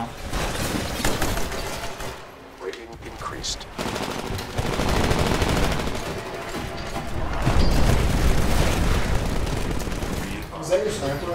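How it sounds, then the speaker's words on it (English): Gunfire from Titanfall, a first-person shooter video game: dense, loud bursts of shots and booming impacts run continuously, with other game noise layered throughout and some talk mixed in. "Now it's a 3-round burst shot."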